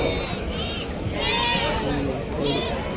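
Several goat bleats rise out of a market crowd at the Rajarampalli Tuesday livestock fair, three quavering calls spaced across the moment while people talk and murmur nearby.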